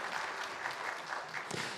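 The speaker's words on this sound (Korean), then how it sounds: "우리 14분 함께 인사하실 때 큰 박수 보내주세요." Sunday church congregation giving a big round of applause, many hands clapping in a dense, even patter that fills the room from start to finish.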